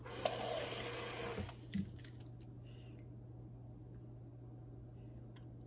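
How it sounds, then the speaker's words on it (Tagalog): Water from a tap is added to salmon with vegetables set up for steaming: a short, faint stream of running water that stops after about a second and a half, leaving near silence. "I will add water a little bit."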